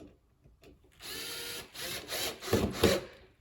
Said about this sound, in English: if you're doing this with a power drill, just be careful